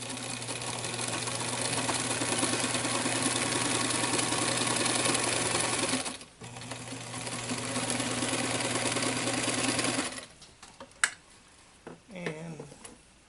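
A sewing machine runs steadily while stitching a denim pouch, a continuous whirring hum that briefly stops, resumes, then ends in clicks and handling noise.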